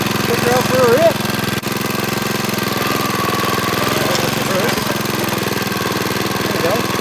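A small Brutus lawn roller's engine chugs steadily in gear as the machine drives off, a loud, continuous rhythmic knocking throb with a brief voice-like squeal near the start.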